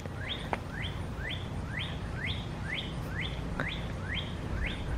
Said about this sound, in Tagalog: ito nakanta yung ibon